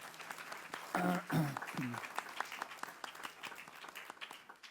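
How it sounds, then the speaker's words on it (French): Brief applause from a church congregation during a Sunday Advent homily in a parish, a short burst of clapping that fades quickly as a voice carries on over it and faint hall noise lingers. "On peut l'applaudir, cette belle Manon-là."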